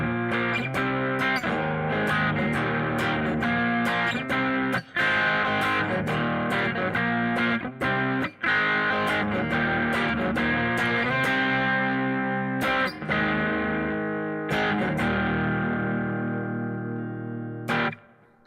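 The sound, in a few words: electric guitar power chords with chorus clone effect and reverb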